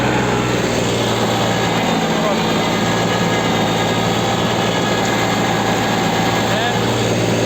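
Tractor engine revving hard while driving a snow turbine through ploughed field soil, a loud, constant droning roar that stays steady throughout with no pauses.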